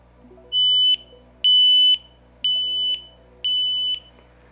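Four loud, high-pitched electronic beeps from Edifier TWS1 Pro 2 wireless earbuds' find-my alert, each a steady tone about half a second long, repeating at an even pace with short gaps between them.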